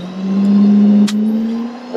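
A 2011 Ford F-550 4x4 bucket truck engine running at a steady idle, a low, even hum close by with a brief sharp click partway through.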